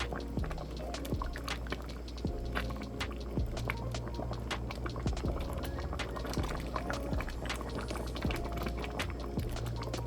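A pot of red beans simmers on the stove, giving a steady, close bubbling with small pops and soft liquid gurgles throughout, no one talking.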